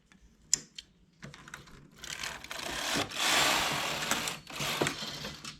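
Knitting machine carriage running a row at tension setting 10 on a double-bed machine, quick clicking and rattling bursts building to a dense mechanical sweep, close and moderately loud, no talk.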